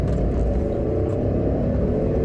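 Suzuki sport car engine pulling hard toward 7000 rpm, a loud, dense, steady roar and rumble heard from inside the car, with no one speaking.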